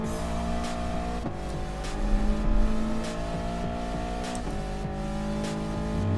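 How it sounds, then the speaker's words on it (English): A race car engine revs hard in a racing video game set at the Nürburgring GP circuit, its loud, steady, high engine whine rising and falling through gear changes across the whole clip, with no talking. "Revving too much. I don't want to rev that much."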